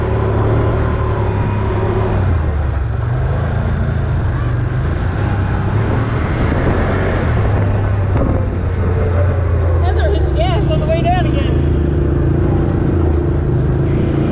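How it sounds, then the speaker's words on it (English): A four-wheeler engine rumbles close by on hills at Ocotillo Wells SVRA with heavy wind buffeting the microphone, the motor's drone shifting slightly in pitch as it runs continuously. "hit the gas coming back down and not just let the four-wheeler's engine brake do all the work for me"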